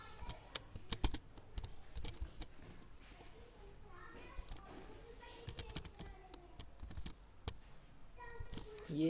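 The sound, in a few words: typing C++ code on a computer keyboard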